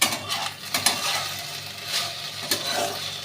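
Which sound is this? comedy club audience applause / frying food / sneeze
frying food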